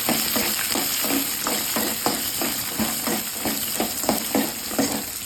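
Shallots and two pieces of ginger sautéing in a pan for groundnut chutney, a steady close sizzle broken by rhythmic stirring scrapes roughly every half second, with no talking.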